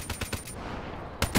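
Automatic gunfire in The Division, a third-person shooter: several quick bursts of rapid shots near the start, a lull, then another burst at the end, loud and close with no talk.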